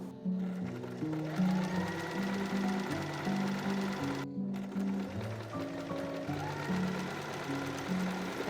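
A sewing machine stitches a buttonhole in steady, quick mechanical bursts with a short pause midway, running alone at moderate volume.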